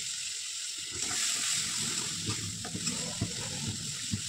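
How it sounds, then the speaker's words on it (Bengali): Water runs into a pan of spice paste with ginger paste, a steady gushing pour with a faint bubbling underneath that rises a little and then carries on evenly. "এখন সামান্য পরিমাণে একটু জল মিশিয়ে নেব যাতে মশলাটা ধরে না যায় নিচে"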